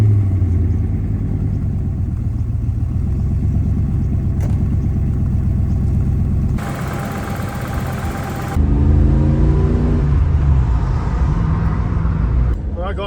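A Holden VL Walkinshaw with its 5-litre V8 rumbles loudly and steadily while driving, revving up through the gears in rising sweeps with a brief lull midway, the engine close and dominant throughout.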